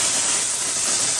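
A Comforday steam cleaner lets off a loud, steady hiss of steam up close, running continuously through the whole moment with no talking.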